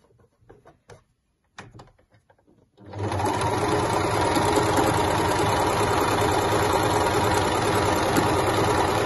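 After a few soft scattered knocks, a sewing machine starts up stitching a fabric face mask, running in a fast, continuous, close buzzing whir for the remaining six seconds without talk.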